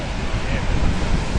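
Rushing river water roars steadily and loudly throughout, broadband and continuous like surging waves, with wind buffeting the microphone.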